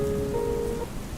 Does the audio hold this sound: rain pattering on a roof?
yes